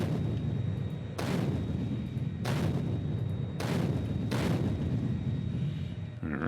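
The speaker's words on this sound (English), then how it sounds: "Let's go ahead and cliff explode this." Cliff explosives detonating in the Factorio video game, four heavy booming blasts spaced a second or so apart over a constant low rumble of game audio.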